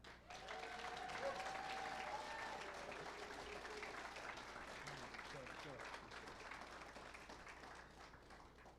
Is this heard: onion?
no